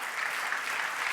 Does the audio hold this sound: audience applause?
yes